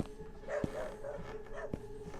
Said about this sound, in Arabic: هاد الكلب هذا فرع عليا راسي يا صاحبي